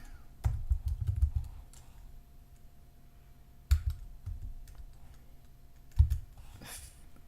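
Someone types on a computer keyboard in short bursts of soft clicking keystrokes separated by quiet pauses, close and fairly faint.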